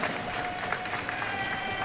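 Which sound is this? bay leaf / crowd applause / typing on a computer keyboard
crowd applause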